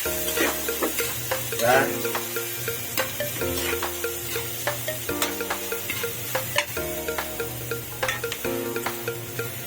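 Ginger and garlic sautéing in a pan for a mussel dish, with steady close sizzling and frying under occasional stirring scrapes, while a voice speaks briefly over the cooking.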